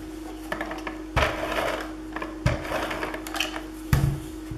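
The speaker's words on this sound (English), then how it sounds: "Now that I have the sewing machine set up" A sewing machine stitching paper runs in short bursts, a rapid mechanical whirring and ticking that stops and restarts several times, with a steady hum underneath.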